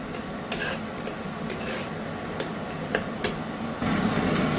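Ghetkol leaves frying in a pan are stirred with a utensil, giving soft sizzling under light scraping and clinking against the metal, with occasional sharper taps.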